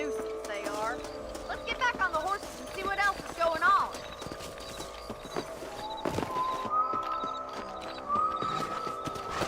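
Hooves clip-clop in a steady, rapid rhythm while voices talk over them and a horse briefly whinnies, from the video game Red Dead Redemption.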